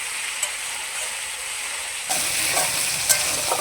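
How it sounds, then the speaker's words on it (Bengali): Chopped tomato and spices fry in a pan for a vegetarian potato curry, giving a steady bright sizzle that jumps louder partway through as the pan is stirred, close and continuous with no voices. "নুন দেওয়ার পরে টমেটো কুচি আর মশলাটাকে একটু ভেজে নেব।"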